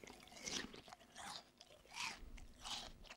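A dry, not very juicy pear is bitten and chewed up close in four soft crunching bursts, faint and separated by brief pauses.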